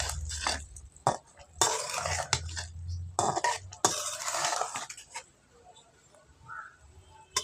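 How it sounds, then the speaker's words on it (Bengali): A spoon stirs ground coriander and cumin into a drumstick and potato curry in a pot, making close scraping and clattering bursts in an irregular rhythm before trailing off quieter near the end. "এর মধ্যে আমি ধনে আর জিরে একসঙ্গে গুঁড়ো করে এটা একটু দিয়ে দেবো। একসঙ্গে মিশিয়ে দেব।"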